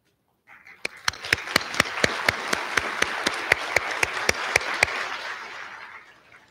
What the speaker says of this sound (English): I would like you to stand so we can offer you a round of applause also